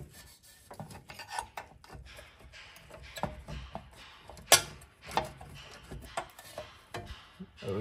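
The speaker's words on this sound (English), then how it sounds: "Let's see if I can get my trim wedge behind it." Plastic trim wedge being worked in behind a brake spring on a Mercedes C63 brake upgrade, giving close, quiet scraping and rubbing with irregular metallic ticks and one sharper clack.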